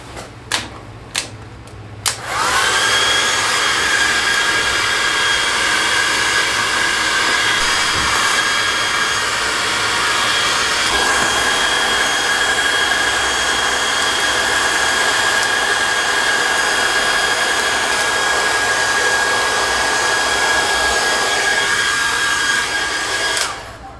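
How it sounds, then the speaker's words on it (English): A heat gun blowing hot air on a sticker to loosen it: a few clicks, then a loud, steady whooshing roar that runs continuously for over twenty seconds before cutting off. "I gotta heat this up a little bit more to get this sticker off. It's not bad, but we need a little more heat."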